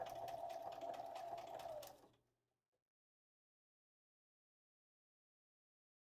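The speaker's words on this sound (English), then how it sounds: "it's going to be fast to sew the buckle down" A sewing machine stitches a buckle down along a straight seam, running steadily and close for about two seconds before stopping, followed by near silence.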